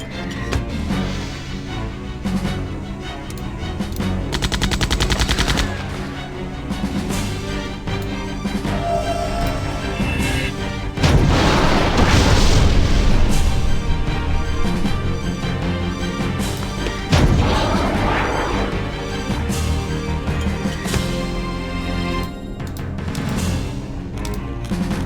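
Grenade turret explosions thump and crash repeatedly during a Septerra Core battle, with loud bursts standing out against a dense, continuous backdrop of game music and combat effects.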